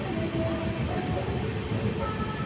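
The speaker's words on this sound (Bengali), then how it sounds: "ট্রেনে সফর করছি" A long-distance passenger train in India, heading from past Bardhaman toward Delhi, rumbles steadily with a continuous low rolling drone and faint rail clatter, as heard from inside the carriage.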